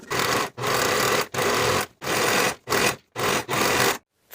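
A sewing machine stitches linen shorts in six or seven quick, loud bursts of whirring, each separated by a brief silent pause as the seam is closed.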